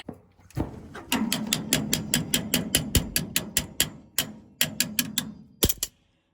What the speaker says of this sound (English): you heard how fast that cranked over. Just immediate.